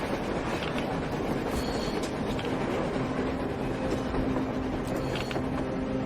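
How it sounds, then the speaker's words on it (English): A train rumbles steadily past on surface tracks in Metro Exodus, with continuous rolling wheel noise, faint clatter and occasional metallic squeals at moderate distance, and no speech. "A train! A damn train on the surface!"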